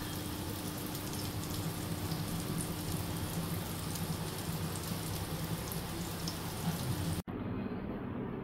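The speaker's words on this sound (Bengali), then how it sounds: "এইভাবে আমি সব কাবাবগুলো ভেজে নেব।" Veg shami kebabs fry in a pan with a dense, steady sizzle that keeps going at an even level, then cuts off abruptly near the end, with no voices.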